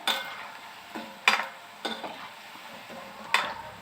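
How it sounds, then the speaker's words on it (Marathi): Food frying in a pan over a high flame until brown, a quiet sizzle broken by a few sharp scraping clinks of a spatula at irregular intervals. "चांगला ब्राऊन कलर होईपर्यंत तळून घ्यावे."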